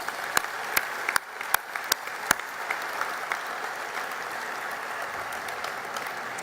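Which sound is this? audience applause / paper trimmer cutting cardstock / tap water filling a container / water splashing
audience applause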